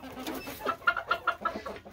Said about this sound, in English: Because that one's definitely a rooster.